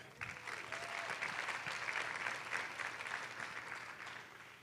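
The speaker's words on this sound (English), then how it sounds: "Another round of applause for Heather." A crowd at an education summer institute session applauds steadily for several seconds, a dense, even wash of clapping that tapers slightly at the end.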